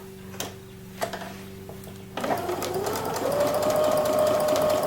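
Sewing machine running a straight top stitch on fabric, starting after a few faint clicks and settling into a steady, rapid whirring hum that continues evenly.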